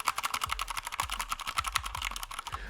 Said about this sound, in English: it's still a mechanical keyboard, so we can still hear the keys